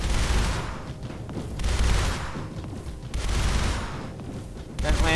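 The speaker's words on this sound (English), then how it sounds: "That Lancer's firing." Lancer turrets in the game Mindustry fire in repeated heavy bursts, loud booming volleys that rise and fall roughly every second with short gaps between them.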